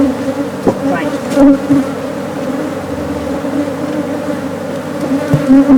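Honeybees buzzing around a hive during an inspection in Botswana, a dense close swarm drone with individual bees zipping past; a brief word is spoken.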